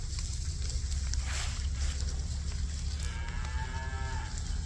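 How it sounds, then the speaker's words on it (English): A cattle herd being moved across a pond moos, with a low, drawn-out call standing out near the end over a steady background rumble outdoors. "So we'll check in on the cattle here in a little bit as well."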